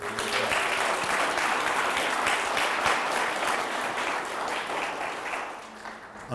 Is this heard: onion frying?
no